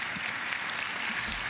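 An audience at a ceremony applauds steadily, a dense, even wash of many hands clapping at moderate volume with no voices standing out.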